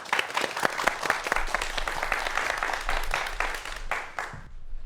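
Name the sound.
audience applause welcoming the lecture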